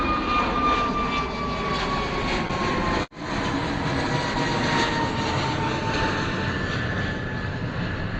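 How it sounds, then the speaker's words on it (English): An easyJet Airbus A320neo jet approaching Bristol Airport makes a loud, steady engine roar with a whining tone that fills the whole stretch, cutting out for a split second before resuming. "A320neo coming at us, EasyJet."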